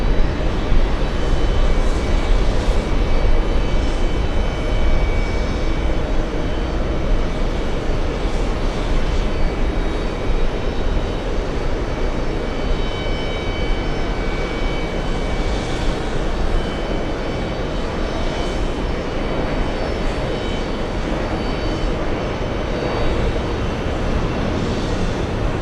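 A Boeing 777 freighter at JFK airport gives off a loud, steady jet engine roar that holds evenly for the whole stretch, with no talk over it.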